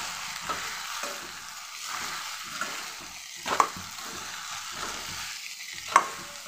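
A vegetable bhaji with niger seed powder being stirred in a pan gives a soft, continuous sizzle, with irregular spatula scrapes and two sharper knocks against the pan, close and alone.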